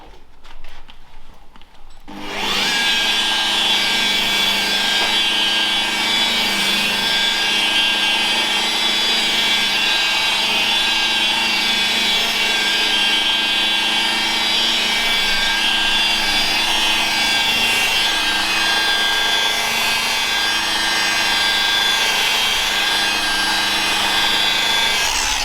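A rotary polisher buffs a car panel with a Mirka lambswool pad and Mother's Heavy Cut compound, its steady motor whine starting after a brief quiet moment and running loud and continuous throughout.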